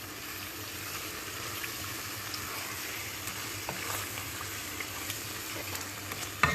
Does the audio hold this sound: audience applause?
no